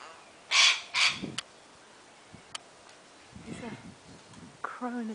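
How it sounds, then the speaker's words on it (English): A crow calls from a tree, giving a couple of loud, harsh caws near the start and a few softer croaking calls later, with faint rustles and a voice speaking briefly in the background. "Crow in a tree talking to itself."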